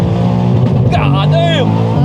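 A 1000HP all-wheel-drive BMW M3 accelerates hard, its engine roaring loud and close with rising pitch sweeps as it pulls through the revs, while people inside shout excitedly over it.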